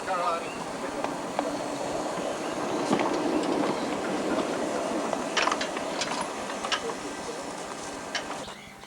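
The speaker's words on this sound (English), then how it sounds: "a couple of young people are seen shunting wagons by hand" Wagons on a 7¼ inch gauge miniature railway at Pecorama are shunted during a 2001 society gathering, with rolling wheel rumble, light clicks and clanks over a busy outdoor background and people talking nearby.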